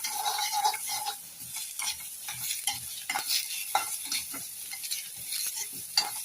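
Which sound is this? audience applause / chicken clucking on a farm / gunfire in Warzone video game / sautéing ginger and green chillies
sautéing ginger and green chillies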